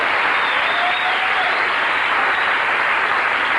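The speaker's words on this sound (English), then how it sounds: "go ahead, applaud the theme" A studio audience applauds in a thick, even wash of clapping, sustained and fairly loud throughout with no voices breaking through.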